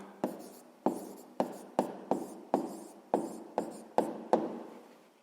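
Pen writing an answer on paper: about ten crisp, evenly spaced strokes, close and fairly quiet, with no talking.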